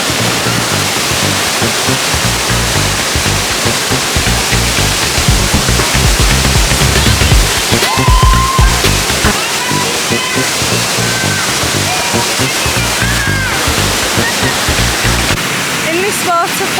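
A waterfall in Bali rushing as a loud, steady roar of falling water that runs the whole length, with a voice talking over it.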